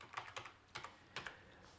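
Typing on a computer keyboard, heard as a short run of soft, close key presses in uneven rhythm, fairly quiet and with no voices.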